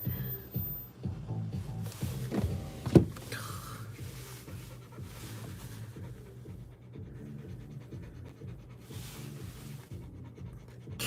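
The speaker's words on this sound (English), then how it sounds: "Can you hear my dog panting?" A dog pants steadily with quick, rhythmic breaths close by, continuing through the stretch with a brief louder bump partway; no talking over it.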